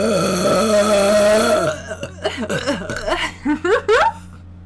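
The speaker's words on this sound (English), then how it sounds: "I'm gonna burp." A loud, drawn-out human burp with a long, voiced rumble fills the first two seconds, followed by shorter vocal bursts that sound like chuckling.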